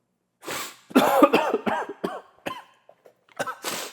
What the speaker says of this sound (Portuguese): engasguei e tossi